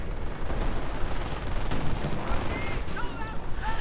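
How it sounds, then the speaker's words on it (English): A 37mm gun fires through building windows at American infantry during a video game strategy match, heard as a dense, continuous barrage of gunfire and impacts with faint voice-like tones near the end. "It's a 37mm gun blasting through the windows, shattering tiny American bodies."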